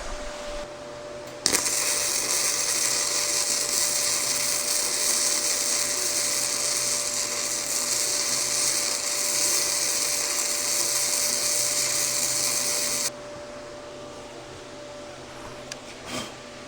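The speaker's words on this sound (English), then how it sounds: "let's go ahead and weld it off" Flux core wire welding on a two-seater barrel train ride, a loud, steady crackling buzz from a close MIG-style torch running for about eleven seconds, then stopping abruptly, with no talking.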